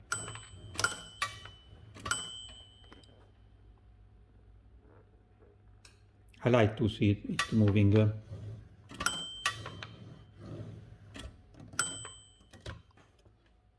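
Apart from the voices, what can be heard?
Remington Junior typewriter margin bell mechanism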